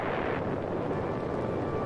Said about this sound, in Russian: был произведен взрыв чистой водородной бомбы с тротиловым эквивалентом